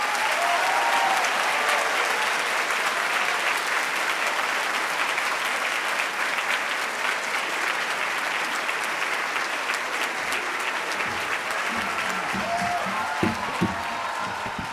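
Sustained audience applause in a hall at a Mente, Cuerpo y Alma festival event, welcoming speakers on stage; steady dense clapping throughout, fading slightly near the end with a few isolated claps.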